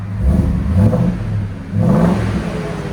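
Ford F-250 pickup with a 7.3L Godzilla V8 and Borla exhaust revving hard twice, the engine surging up from a low rumble and falling back between pulls, loud and close with no talk.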